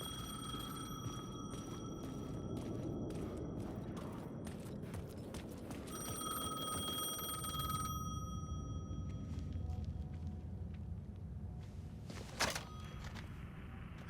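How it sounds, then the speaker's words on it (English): A payphone rings in the Alan Wake 2 video game, shrill repeated bell bursts in an irregular rhythm for about eight seconds, then fading into a quiet, dark ambience with a single sharp knock near the end. "payphone was ringing."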